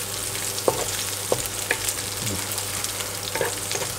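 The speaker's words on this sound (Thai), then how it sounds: "ผัดหอมๆเลย" Glass noodles with minced pork and holy basil sizzle in a hot pan while being stir-fried, with a steady frying hiss and a few scraping spatula strokes close by.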